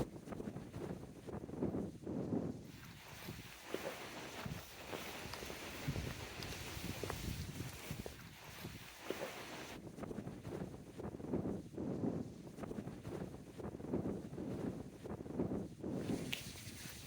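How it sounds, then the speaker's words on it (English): Wind gusts buffet the microphone on a walk near a country church, a rough low rumble that swells and eases throughout with faint rustling and footsteps underneath, no voices. "Bit windy today."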